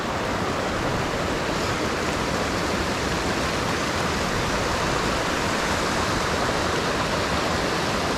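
Rushing water roars steadily where two rivers meet on the Olympic Peninsula near Potlatch, Washington, a dense, unbroken broadband wash filling the whole stretch with no voices.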